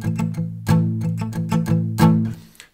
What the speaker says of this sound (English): this is how we get this muted sound